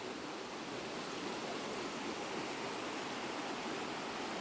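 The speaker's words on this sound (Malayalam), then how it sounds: "നമ്മൾ പോകുന്ന വഴി തന്നെ സൈഡിൽ തന്നെ ചെറിയ ചെറിയ വെള്ളച്ചാട്ടമൊക്കെ ഉണ്ട്" Small waterfalls beside a forest path with low water flow, giving a steady, even rush of falling water that continues unbroken and fairly soft from start to finish.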